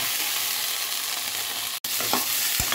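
Thinly cut, half-steamed cauliflower frying in butter and spiced oil, a loud, dense, continuous sizzle close up with a few faint stirring knocks near the end.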